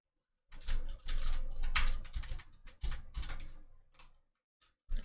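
Bursts of typing on a computer keyboard during a live coding session, close and crisp clicks in uneven runs with brief pauses and a final short flurry.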